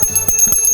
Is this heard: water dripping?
no